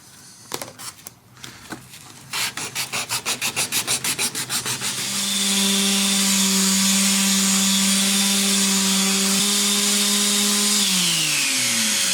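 Router fitted with an Amana four-flute roundover bit, first pulsing as it spins up, then settling into a loud, steady high whine while cutting guitar wood.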